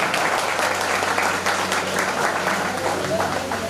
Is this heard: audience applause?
yes